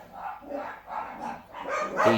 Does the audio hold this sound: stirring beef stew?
no